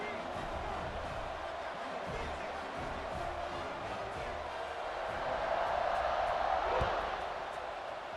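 A stadium crowd roars at kickoff in the video game College Football 26, a broad steady wall of cheering that swells briefly near the end, with commentary voices mixed beneath.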